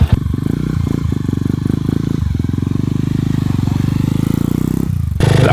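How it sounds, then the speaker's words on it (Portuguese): A motorcycle engine fitted to a bicycle runs close by with a steady, rapid putter, dipping briefly before settling into a constant loud idle. "Vamos ver se é possível pelo menos equilibrar na nossa bicicleta com motor de moto"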